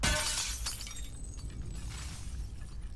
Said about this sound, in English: I have to break the glass.